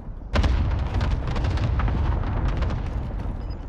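Cluster strike explosions in Warzone, a dense barrage of booming blasts that starts abruptly and rolls on continuously, loud and close, with overlapping detonations and no speech over them.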